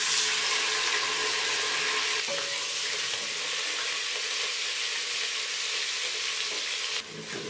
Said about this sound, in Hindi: हमने इसमें मैश किया हुआ टमाटर डाल दिया है।